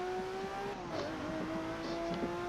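A Lamborghini Murcielago SV engine holds a steady, droning note while racing, with small pitch shifts and faint clicks over continuous road noise.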